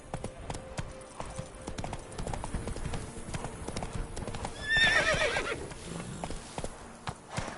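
Horse hooves clip-clop steadily in a PS4 video game, with a brief whinny partway through, moderately loud over a busy game soundscape and no clear talk.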